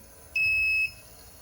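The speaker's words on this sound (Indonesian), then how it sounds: "pompa masih akan tetap aktif disertai bunyi buzzer dengan kecepatan yang cepat" A single sharp, high-pitched electronic beep of about half a second from the buzzer of an IoT water level monitor while its pump runs, clear and alone over a faint background hum.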